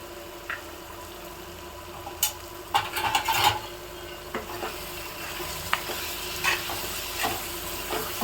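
Masala frying with mutton liver in a pan, a soft continuous sizzle broken by scattered scraping stir strokes and clinks, fairly quiet and close with no voices.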